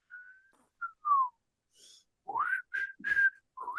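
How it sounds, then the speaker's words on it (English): A person tongue-whistles a short broken tune, a few thin sliding notes separated by pauses, close and fairly quiet with a brief breathy noise between phrases. "I forgot how to lip whistle. I have to tongue whistle now."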